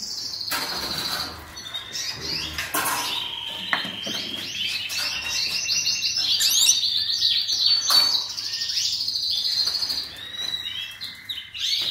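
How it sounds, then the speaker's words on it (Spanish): Small caged canaries chirping and tweeting nearby, a busy stream of high, quick calls with some rustling and clicks in the background. "Estos son los pajaritos que yo traigo de mi aviario."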